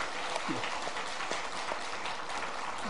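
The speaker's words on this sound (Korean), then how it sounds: "박수 한번 치십시다" A church congregation claps together in steady applause, a dense wash of hand claps that holds through the whole stretch with no talking over it.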